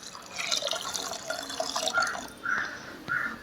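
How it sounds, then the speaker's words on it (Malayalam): Water poured into a pressure cooker of washed toor dal, a soft steady trickle with small drips and splashes, fairly quiet and close, no talking. "ആ പരിപ്പ് വേവാൻ ആവശ്യത്തിനുള്ള വെള്ളം ഒഴിച്ചു കൊടുക്കാം."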